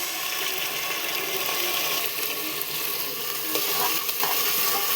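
Onion and spices sizzle loudly in hot oil in a pan, a dense and steady frying hiss heard close up, with occasional stirring scrapes and no speech.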